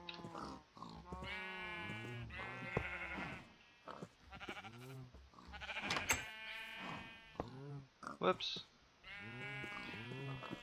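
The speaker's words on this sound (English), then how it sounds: "Back, sheep, back. Don't escape. Ah! I had a sheep escape." Sheep bleat in a blocky sandbox game, repeated calls rising and falling while someone talks over them throughout.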